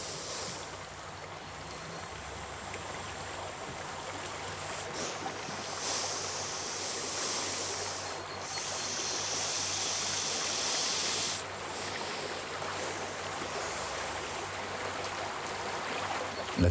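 A fast-flowing river current fills the scene with a steady, full rush of water, broadband and constant, swelling slightly louder midway with no voices.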